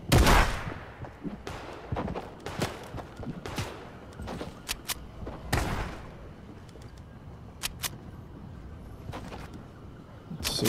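Gunfire in Fortnite, including a gold SCAR assault rifle: scattered sharp shots, single and in short bursts, a loud one at the start and another near the middle, over steady game ambience.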